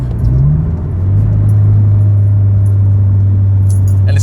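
An HKS turbocharged Subaru BRZ engine, a steady loud low drone with a brief rise in pitch at the start, heard close up with no talking.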